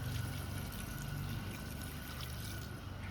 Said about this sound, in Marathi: आता यामध्ये टाकत आहोत गरम पाणी